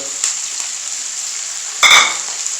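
Steady sizzle of something frying in a hot pan, with a brief louder burst of crackling as garlic and ginger hit the oil.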